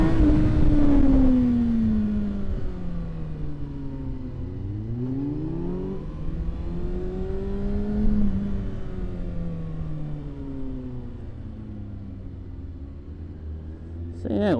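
Several motorcycles in a group charity toy run ride past, engines rumbling and rising and falling in pitch as they pass at moderate distance, with a steady low drone throughout.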